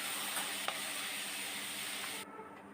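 Washed mung dal fries in a pan over a medium flame, making a soft, even sizzle with a couple of faint clicks, then thinning out abruptly near the end.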